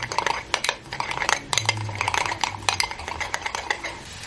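A spoon stirs chopped apples with cinnamon and a tablespoon of coconut flour in a bowl, giving repeated quick scraping clinks of metal against the dish in an uneven rhythm, close and alone.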